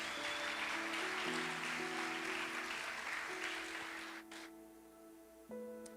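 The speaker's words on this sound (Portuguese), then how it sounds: "aplaudindo a Jesus." Church congregation applauding, a soft steady wash of clapping heard at a distance beneath sustained organ or keyboard chords, tapering off near the end.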